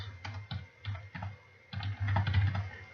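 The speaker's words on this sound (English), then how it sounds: "So I could perhaps type in here" Fingers type on a computer keyboard while coursework is being marked, producing quiet, irregular clusters of key clicks with brief pauses between bursts and no voices.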